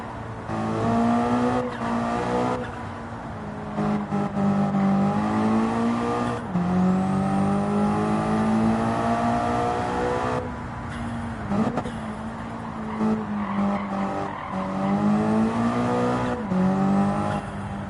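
Race car with a high-downforce body kit in Gran Turismo 7, engine droning steadily with rising and falling revs through gear changes and brief tire squeal, loud and continuous throughout with no talking.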